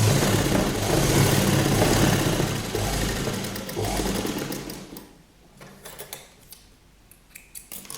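A sewing machine stitches a kurti placket, running in a close, steady whirring burst for about five seconds, then slowing to short ticks and clicks as it stops.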